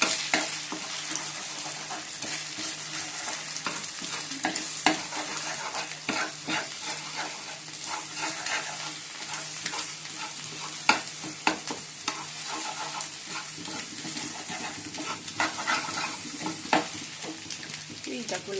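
Maggi noodles with ground black pepper frying in a pan, a steady close sizzle broken by frequent scraping clicks of stirring throughout, no voices.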